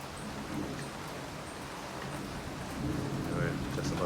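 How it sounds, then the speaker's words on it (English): Rain falls steadily in rural Jamaica in August, a soft, even patter on surfaces that holds at a quiet level and thickens slightly toward the end, with no voices. "It looks like the rain is slowing down"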